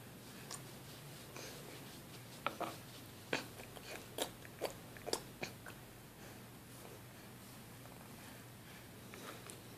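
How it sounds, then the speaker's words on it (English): A baby chews food with a sequence of small, close clicking and crunching bites, clustered in the middle of the stretch over faint room noise. "That's how we chew? Like slobs?"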